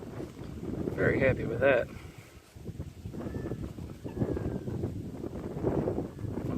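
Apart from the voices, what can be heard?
wind blowing outdoors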